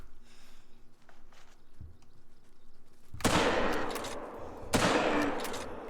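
Rifle fire at a charging wild boar in the hunting game Call of the Wild: two loud, sharp shots roughly one and a half seconds apart, each with a short echoing tail, over quiet forest ambience.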